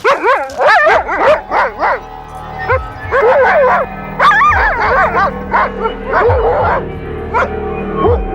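Husky sled dogs bark and yip repeatedly in an irregular, loud burst pattern, several close barks overlapping with whimpering sounds over a low steady background.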